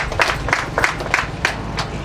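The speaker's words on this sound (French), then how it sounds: "Applaudissez pour eux" Applause at an agency opening ceremony in Nikki, with a few distinct claps standing out at steady intervals over a low murmuring crowd background.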